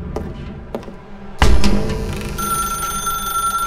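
An old-style telephone bell in The Stanley Parable rings out, kicking in suddenly after a quiet, low stretch and then sustaining a steady, bright, close tone through to the end, with no one talking.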